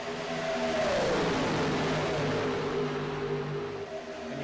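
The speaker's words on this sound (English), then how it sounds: "You can actually hear the cars." Race cars at Daytona, a loud continuous engine roar with a wavering whine that sweeps downward as cars pass, sustained and fairly close with no talk.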